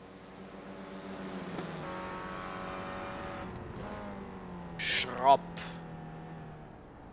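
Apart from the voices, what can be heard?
Clio Cup race cars at Tsukuba, from a racing video game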